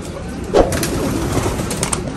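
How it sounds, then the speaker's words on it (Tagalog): Pigeons in a coop give soft, low cooing with a brief louder coo early on, over a steady background of rustling and faint bird sounds. "Papasukan muna natin itong mga kalapate."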